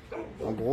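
A dog gives a brief yelping bark that rises at the end, heard close by under someone speaking French.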